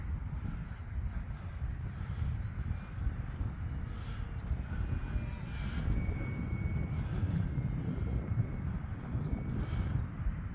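An E-flite UMX Turbo Timber Evolution electric RC plane flies at full power outdoors, its thin high motor whine drifting at a distance over heavy, steady wind rumble.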